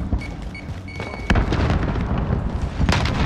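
Frag grenade blast in the Call of Duty Warzone video game: a sharp, loud boom bursts in partway through, followed by sustained rumbling noise and a second smaller crack near the end, over earlier beeping game tones.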